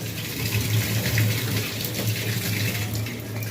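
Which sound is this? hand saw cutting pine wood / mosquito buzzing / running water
running water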